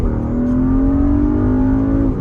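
Porsche Cayenne S SUV with a turbocharged engine accelerates hard, its loud, steady engine note climbing through the revs from inside the cabin, with no talking.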